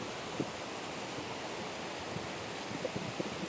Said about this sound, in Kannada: ನಿಮ್ಗೊಂದು ಜಲಪಾತ ತೋರಿಸ್ತೇನೆ